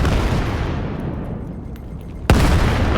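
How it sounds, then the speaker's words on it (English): Grenades go off in the Vail VR shooter during a match, starting as a dense wash of blasts and rumble that eases, then one sharp, loud explosion cracks near the end, with no voices. "Both teams throwing nades everywhere."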